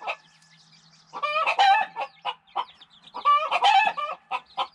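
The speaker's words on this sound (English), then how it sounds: "The hen house can get pretty noisy." Chickens in a hen house cluck and squawk in close, busy bursts, two rising flurries of calls over quieter clucking.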